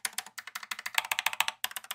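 Quick bursts of clacking keystrokes on a slim, low-profile Keychron K7 travel keyboard, crisp and close, with a short pause partway through before the typing resumes.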